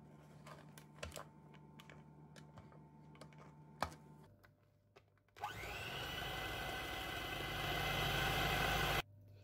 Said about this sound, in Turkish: Ve hepsini güzelce çırpıyorum.